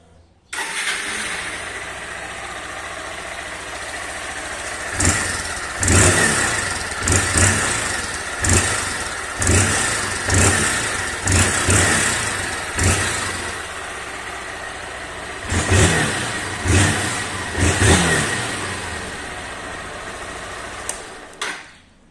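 A Honda Fan 160 motorcycle engine starts and idles with a steady mechanical chatter, broken by a series of sharp revving bursts in quick succession, close to the recorder.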